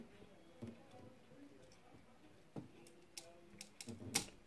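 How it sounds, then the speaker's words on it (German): Scissors work at a flame tree (Delonix regia) seed pod, giving faint, sparse snaps and clicks that grow sharper toward the end, with quiet background hiss. "Jetzt werden wir mal die Schote gemeinsam knacken. Das machen wir mit dieser Schere hier."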